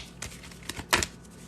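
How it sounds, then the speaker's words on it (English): Tarot cards are shuffled by hand in a few quick, soft riffling bursts, the last one the loudest, close by in a quiet room with no talking. "I'm going to shuffle this again"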